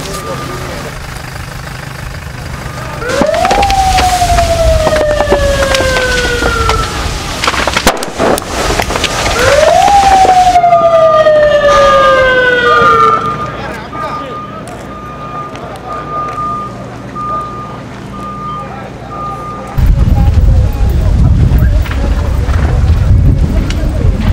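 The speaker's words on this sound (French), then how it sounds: "En face de moi, des ambulances arrivent." Wailing ambulance sirens sweep up and down repeatedly over rumbling engine noise and traffic amid NATO bombing in Libya, with voices and a steady tone partway through.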